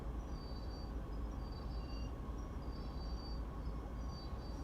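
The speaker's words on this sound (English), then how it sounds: "independent brakes, slow us down" Diesel freight locomotive in Train Sim World 2 on the Cane Creek line, slowing under independent brakes: a steady low rumble of engine and rolling wheels with faint high brake hiss, continuous and moderately quiet throughout.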